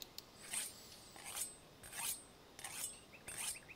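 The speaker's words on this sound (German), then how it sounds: "Eine Sichel schärfen." A sickle is sharpened on a whetstone in the video game Tale of a Hero, giving five rhythmic rasping strokes at a steady pace, each a short bright scrape with brief pauses between, fairly faint and with no talk over it.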